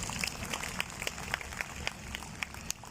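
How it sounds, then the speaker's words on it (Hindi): An audience applauding at an Odisha Parba celebration in Delhi, heard as a dense, steady patter of many hands clapping at a moderate distance, with a few sharper claps standing out. "मैं सोच रहा हूँ कि ताली थोड़ा जम के हो जाना चाहिए।"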